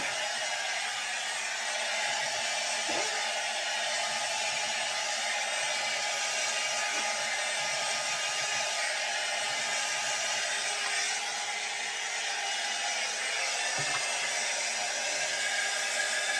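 Hair dryer blowing hot air on a Jon Renau Gabrielle synthetic wig, a constant loud close whir with faint handling bumps now and then.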